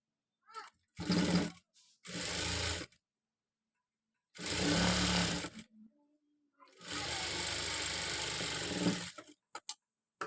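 A domestic sewing machine stitches a hook-and-eye strip on fabric in several close, steady whirring bursts of one to two seconds each, separated by pauses and ending with a few short clicks.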